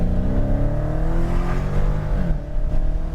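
A Dodge Hellcat accelerates hard to pass on a racetrack, its engine roaring loud and steady with rising revs, heard close from inside the car without talk.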